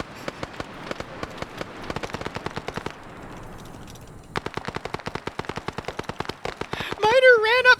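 Machine gun fire in a video game, with rapid bursts of sharp, evenly spaced shots, a short pause, then more sustained automatic fire. Close and loud, with a voice heard near the end.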